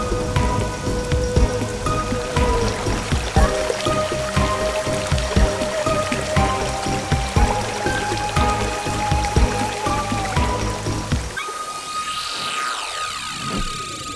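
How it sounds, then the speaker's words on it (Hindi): Heavy rain pours steadily on the surface of farmland, with water running off through a drain into a pond; the downpour is dense and continuous, then breaks off near the end into quieter water and a sweeping tone. "अरे वो देखो सारा पानी उस नाले से होकर तालाब में जा रहा है।"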